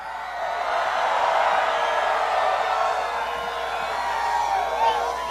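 A large crowd at a Donald Trump rally in Phoenix, Arizona, cheering and whooping in a sustained, loud roar that swells and holds for several seconds, with a few louder shouts near the end.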